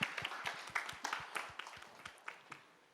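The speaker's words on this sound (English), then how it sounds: "can we have a huge round of applause for Malaika" Faint, scattered handclaps from an audience honouring Malaika Arora at a pears fruit launch event: a thin, uneven patter of separate claps that gradually thins out.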